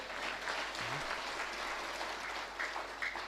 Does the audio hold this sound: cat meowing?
no